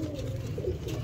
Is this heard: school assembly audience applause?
no